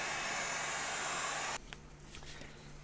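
A heat gun blows a loud, steady, close airy roar while warming foam armor pieces for heat forming, then abruptly drops to a much quieter low hum partway through.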